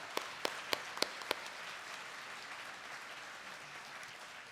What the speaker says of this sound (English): can we have another round of applause for...